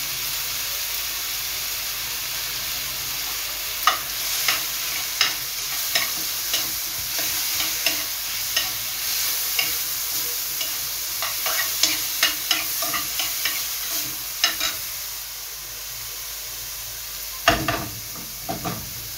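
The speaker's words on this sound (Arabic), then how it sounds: "وغادي نزيد هاد الزوت، غادي نبدا نشحرو" Oil sizzles and hisses steadily in a pan while filling for a Moroccan pastilla is sautéed, with sharp scraping and clicking of a stirring utensil scattered through and a louder crackle near the end.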